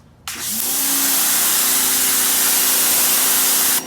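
A Greenworks 2000 psi pressure washer fitted with a 25-degree nozzle kicks on after a short pause and sprays in a loud, steady, broadband hiss, holding level until it cuts off abruptly near the end.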